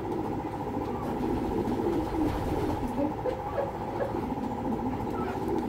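Racing pigeons coo softly and repeatedly over a steady background hum, with faint voices nearby.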